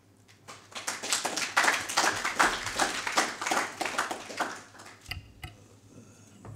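An audience at a lecture at ISS in The Hague claps steadily for several seconds, a dense patter of many hands that fades out near the end.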